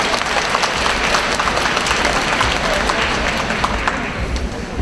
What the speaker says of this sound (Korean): 열광해주신 강사님께 다시 한번 큰 박수를 부탁드리겠습니다